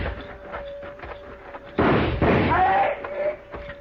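Gunfire in a radio drama shootout: after quiet talk, a couple of loud, close sharp gunshot bursts ring out in quick succession, followed by a voice over lingering echoes.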